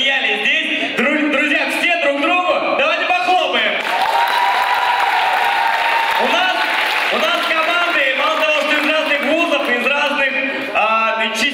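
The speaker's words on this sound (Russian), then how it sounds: "давайте похлопаем" Audience at a KVN comedy league show in Novosibirsk applauding, sustained clapping running under a host speaking loudly over a microphone.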